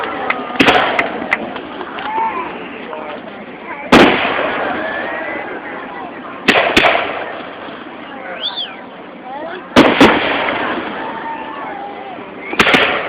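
Fireworks bang sharply four or five times at uneven intervals, with crackling and whistling between bursts and faint voices in the background.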